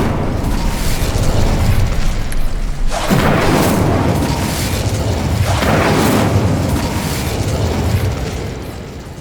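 Incendio fire spell in Hogwarts Legacy igniting twice, each a loud booming burst of flame roaring over steady game background noise.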